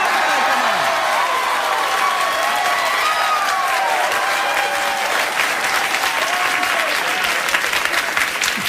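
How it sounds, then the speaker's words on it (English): A late-night talk show studio audience claps warmly and continuously, loud and dense, with faint cheering and a few voices mixed into the applause. "I don't want you to hold your applause."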